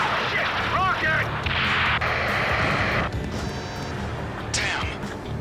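A rocket explosion in the combat flight game Ace Combat 7, a heavy blast and crash among whistling and mechanical game sounds, with a voice speaking over it.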